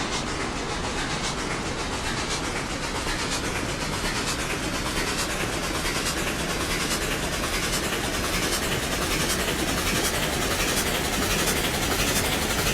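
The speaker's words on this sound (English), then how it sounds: "station sound of the railroad" Railroad station and locomotive ambience in the RailRoads Online video game: a steady, dense rumble with faint rhythmic clatter runs continuously and loud throughout, with no voices.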